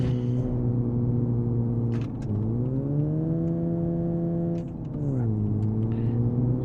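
A Satsuma 210 Convertible's engine in BeamNG.drive holds a steady mid-pitched drone, dips briefly near the two-second mark and again near four and a half seconds, then climbs back. It runs continuously and loud with no talk over it.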